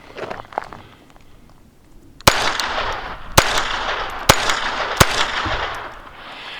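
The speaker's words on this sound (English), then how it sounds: "while I have this Sterling 22 out here, I might as well shoot it right, even though it doesn't have an ejector" Four sharp, loud gunshots from a Sterling .22 semi-automatic pistol firing Remington Golden Bullet rounds, spaced about a second apart outdoors, each followed by a short ringing decay.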